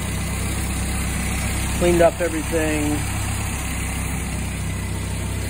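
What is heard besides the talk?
car engine idling after repairs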